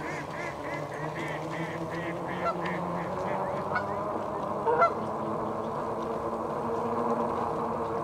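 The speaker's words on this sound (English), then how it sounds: "Geese too." Geese honking repeatedly in a series of nasal calls at moderate distance, heard outdoors alongside steady background rumble, with someone speaking briefly.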